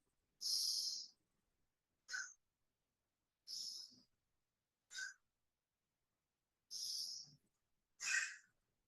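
Slow, deep breaths during a core-strength exercise, six separate airy inhales and exhales spaced about a second apart, close and clear against silence.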